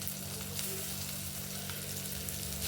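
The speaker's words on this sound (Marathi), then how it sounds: "जो आपण मसाला तयार केलेला आहे तो तेलामध्ये भाजून घेऊ." Masala paste roasting in hot oil, after brinjal was fried in the same pan, gives a dense steady sizzle with a low hum underneath, close and uninterrupted, no talking.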